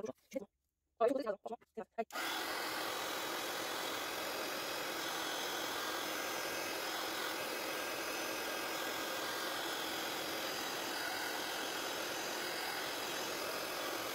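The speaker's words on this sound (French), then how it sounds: "J'ai branché le heat gun. Et on va sécher tout ça." Heat gun blowing on modeling paste to dry it, a steady loud broadband whoosh running continuously after a few brief clunks and handling noises at the start.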